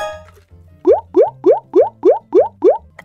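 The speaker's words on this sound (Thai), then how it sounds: "ขอดื่มน้ำแป๊บหนึ่ง" Someone drinks water in gulps, giving seven evenly spaced, close swallowing plops in a steady rhythm after a short quiet pause, with no talking over them.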